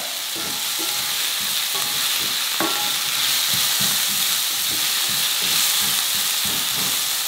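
Softened onions and crushed, chopped garlic sautéing in a pan for pork ribs binagoongan, a loud continuous sizzle close by, with irregular spatula scrapes and one sharp metallic clink, no voices.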